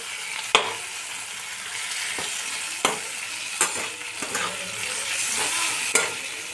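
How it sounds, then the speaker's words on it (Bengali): Fish heads frying in spice paste for dal make a moderate, even sizzle with a few sharp clicks and knocks of a spatula against the pan, close up and without voices. "মাথাগুলো 2-1 মিনিট কষে মাথাগুলো দিয়ে দিলাম।"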